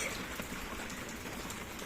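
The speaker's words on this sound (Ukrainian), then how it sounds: "Ох і дощ." Steady broadband rain falling outside a home, a dense even hiss with fine drop patter filling the whole moment at a constant moderate level, with no voice over it.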